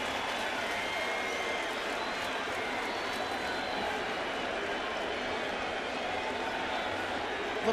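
A stadium crowd at a baseball game gives a standing ovation for Derek Jeter, a broad, steady roar of applause and cheering from far away that holds evenly throughout, with faint talk beneath.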